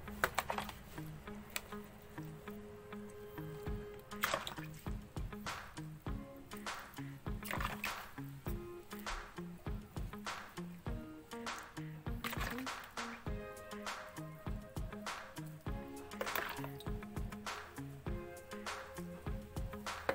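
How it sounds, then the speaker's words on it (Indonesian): Water is poured over chili seedlings in polybags, with irregular patters, splashes and drips close by that run continuously and vary in loudness over about twenty seconds. "Siram kembali."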